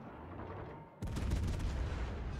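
A battleship's gunfire in World of Warships: a sudden loud booming blast at about one second, followed by a sustained rumbling roar that carries on to the end with no voice over it.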